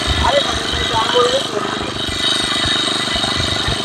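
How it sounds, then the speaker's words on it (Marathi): Three engine-driven sprayer pumps run together while a tomato plot is sprayed, making a continuous rattling drone with a steady rhythmic pulse, and voices are heard over the noise. "तीन पंप चालू आहेत"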